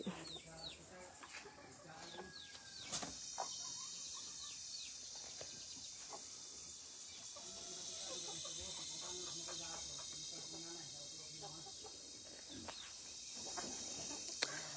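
A Bisaya hen clucks near her eggs in a backyard, with soft intermittent clucks over a constant high insect-like hiss and occasional other sounds; people talk nearby.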